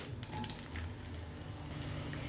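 Finely chopped onion and curry leaves frying in hot oil, a steady close sizzle and crackle that runs without pause and with no talk.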